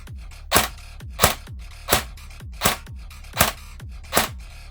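Six sharp mechanical clacks from a VFC airsoft gun's spring on pre-cock, evenly spaced about once every second, each with a brief metallic ring, close and alone.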